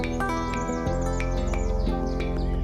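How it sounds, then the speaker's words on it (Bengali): Birds calling in a teak forest: repeated short chirps and tweets over a steady droning background, fairly close and continuous. "এখানে কান পাতলে শোনা যায় নাম না জানা অসংখ্য পাখির ডাক"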